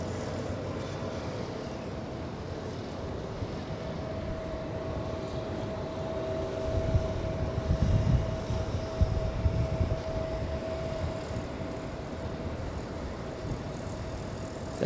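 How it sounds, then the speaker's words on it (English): An Aeromexico Boeing 787 Dreamliner departs Los Angeles International Airport, its distant jet roar a steady, moderate wash that swells briefly in the middle before settling back, heard from afar with no talking. "There goes the Mexican 787 Dreamliner flying to Mexico City."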